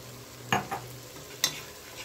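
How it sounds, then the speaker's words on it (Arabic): Tomato paste frying in a pan is stirred, with two sharp scraping clanks of a spoon against the pan over a low, continuous sizzle, close and fairly quiet, no talk. "كل ما تضيفي حاجه بقى كده تدي تقليبه"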